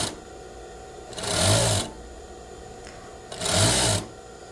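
A sewing machine fitted with a cording foot stitches bias trim in two short bursts of fast, even whirring, each about half a second long. A quiet pause separates them, and no one speaks.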